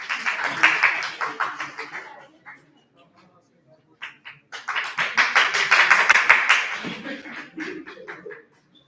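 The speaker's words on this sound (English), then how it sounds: "please welcome her with a big round of applause" An audience at a Women's Day celebration claps to welcome a speaker in two distinct bursts of close, crisp clapping, separated by a near-silent gap, with faint murmurs underneath.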